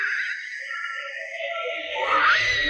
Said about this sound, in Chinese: 惨叫声响彻了整个大厦